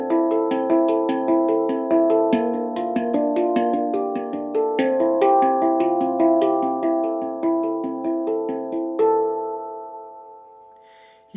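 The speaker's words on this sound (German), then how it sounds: "Da spiele ich Arpeggio-Melodien, das sind aufeinander folgende Akkordmelodien." Handpan plays flowing arpeggio melodies, struck notes ringing in quick succession with a bright metallic resonance, ending in a sustained chord that decays, close and clear without talk.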